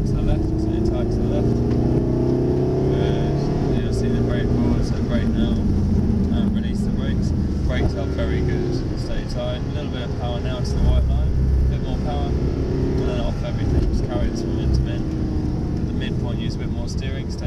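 A Mercedes SLS AMG on a track driving experience at Benzworld, its engine droning steadily inside the cabin and rising as power comes in, under near-continuous instructor talk.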